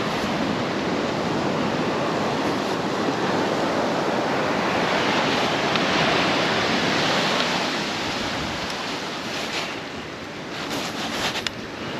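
Strong wind and breaking surf roar steadily at Beesands Beach in the UK during stormy, monsoon-like weather, a loud continuous wash of waves with gusts buffeting the microphone and no talking.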